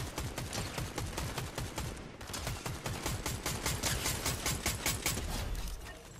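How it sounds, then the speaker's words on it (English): Rapid bursts of automatic gunfire in a Fortnite match, dense and continuous with a brief pause near the two-second mark, loud and close. "Someone shooting here"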